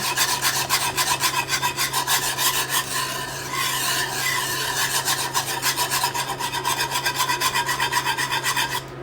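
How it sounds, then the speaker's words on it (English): Alfredo sauce is whisked fast in a pan, the whisk scraping in quick, even rhythmic strokes that repeat steadily and stay close and clear, with no talking. "you want to whisk it in fast so that it doesn't melt uneven"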